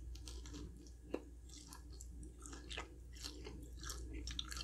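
Hot fried mozzarella cheese sticks being chewed close to the mic, with soft wet mastication, occasional crisp bites and one sharper crunch, quiet and without talk.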